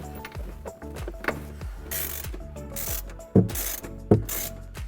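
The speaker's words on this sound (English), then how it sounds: "Reinstall the bolt that you previously removed from the factory airbox and use it to secure your new airbox" A hand ratchet tightens a bolt on the intake airbox of a 2017-18 Ford F-150, giving rapid clicking pawl bursts, up close, with a couple of louder knocks near the end.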